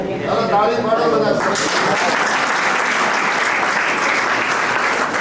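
Everyone in a family group on a trip claps together, loud dense applause that starts after a voice and then fills the rest of the clip steadily and close.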